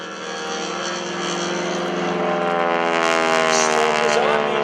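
A Stearman biplane powered by a 450 hp Pratt & Whitney radial engine performs at an airshow. The engine drones loudly and steadily overhead, its pitch rising slightly as the plane climbs, with no talking.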